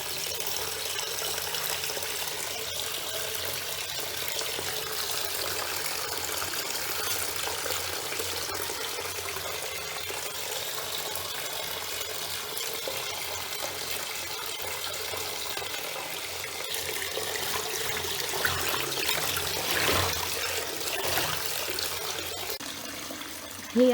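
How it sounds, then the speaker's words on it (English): Water pours steadily into a bathtub from the tap, a continuous rushing, splashing flow at even loudness throughout, close by and with no other sounds standing out. "So the water is running now, and just love the sound of that."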